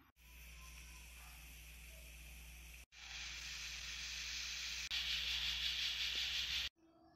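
A pressure cooker cooking mixed beans hisses steam in steady bursts, cutting off briefly and resuming louder, with a low hum underneath.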